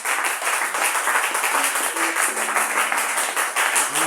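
A church congregation at a prayer service claps and applauds, loud and dense rhythmic clapping throughout with no break, heard from within the crowd.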